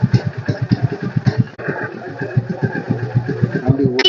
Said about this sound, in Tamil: வண்டி ஓடிட்டு இருக்குங்க. சைலன்சர்கிட்ட காட்டும்.